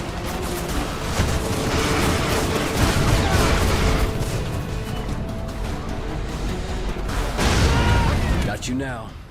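Explosions and gunfire in the video game Prototype, a dense, loud, continuous barrage of blasts and shots with a few louder booms near the end, mixed with other game sounds.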